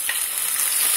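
Onion and spices frying in oil for a Bengali cauliflower roast, a steady close sizzle with a brief stirring scrape near the start, no voices.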